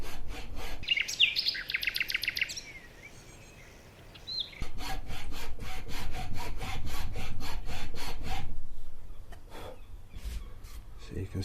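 A hand file rasps across scrap wood in quick, even back-and-forth strokes, steady and close, with a brief lull partway through and faint bird chirps in the background.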